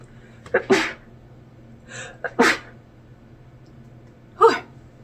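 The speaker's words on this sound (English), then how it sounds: "I have to sneeze." Three sharp sneezes, each with a quick intake of breath before it, spaced a couple of seconds apart over a low steady hum.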